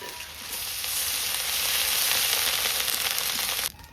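Garlic and ginger paste hitting hot oil, a loud bright continuous sizzle that swells and holds steadily close by, then cuts off abruptly near the end, with no talking over it.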